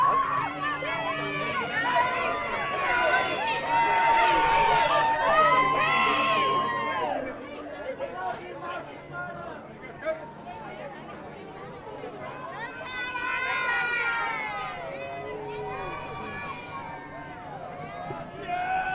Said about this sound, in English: Look at this crowd out here.